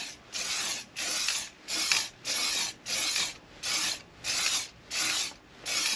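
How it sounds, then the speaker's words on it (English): Short hissing bursts of a spray paint can on a Lexan RC car body, about eight evenly spaced sprays each lasting roughly half a second, close and fairly quiet. "we're not doing a lot of spraying, it's just small sprays"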